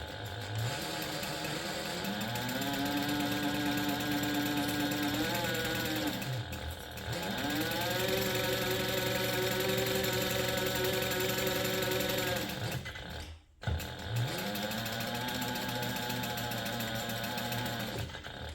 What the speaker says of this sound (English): this is going to be sewn together using a 1/4 inch seam allowance